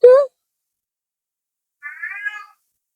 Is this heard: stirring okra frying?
no